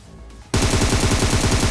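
Rapid automatic gunfire in a mobile battle royale shooter, solo against a squad, erupts abruptly after a brief quiet moment and continues as loud, dense, evenly spaced bursts until the end.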